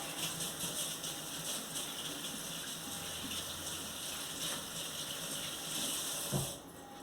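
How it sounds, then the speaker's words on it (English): Tap water runs steadily into a kitchen sink while hands are washed beneath the stream, a continuous close gushing wash with a brief louder splash near the end and no talking. "So just gonna wash my hands real quick."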